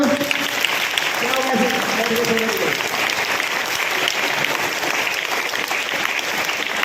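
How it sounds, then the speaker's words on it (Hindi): An audience claps steadily and loudly throughout at a school result ceremony for the SilverZone International Olympiad 2024 as gold and silver medals are handed out, with a voice briefly speaking over the dense applause. "एक बार जोरदार ताली बजा दो।"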